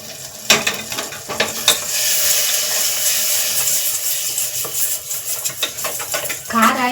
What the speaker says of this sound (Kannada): ಈಗ ಒಂದು ಸ್ವಲ್ಪ ಉಪ್ಪು ಈಗ ಇದನ್ನು ಚೆನ್ನಾಗಿ ಕಲಿಸ್ಕೋಬೇಕು